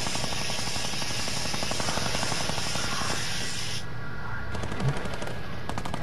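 A teammate's rapid gunfire in a large 50 vs 50 Fortnite match, a loud, continuous stream of automatic shots lasting the whole stretch over a steady, rushing background.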